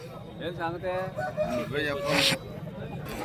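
Rooster at a Vijayawada poultry market crowing once, close and loud, with someone talking over it.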